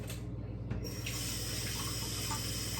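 Liquid, milk or water, pours steadily into a bowl of oatmeal being made for breakfast, a continuous close splashing trickle that runs the whole time with no talking.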